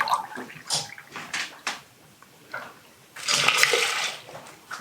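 Milk poured into a measuring cup for making oats, heard close as intermittent liquid splashes and clinks, ending in a longer, louder steady pour with no speech over it.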